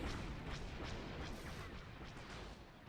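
Hailfire droid rockets explode in a Star Wars Battle of Naboo battle in Men of War Assault Squad 2, a faint, continuous rumbling barrage of distant blasts with no voices over it.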